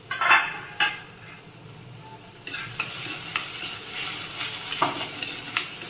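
Onion and cooked beetroot sauté in an uncovered pan, a soft sizzle under the clink of a lid coming off and repeated scraping of a spoon stirring.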